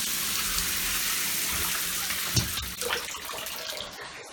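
Water runs steadily from a bathroom sink faucet, a continuous close hiss of flow that carries on alone throughout.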